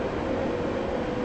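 Steady rumble of a train running in the video game Stepford County Railway, a connect service toward Stepford Airport Central nearing Coxley, with a constant low hum and no breaks over a short stretch.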